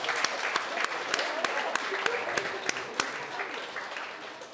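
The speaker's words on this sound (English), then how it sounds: "let's give a round of applause for them on their way home" Wedding reception guests applaud the catering staff with a run of sharp, evenly spaced claps over a softer crowd wash, with voices talking alongside.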